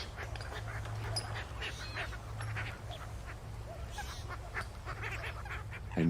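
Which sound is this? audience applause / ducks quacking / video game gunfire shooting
ducks quacking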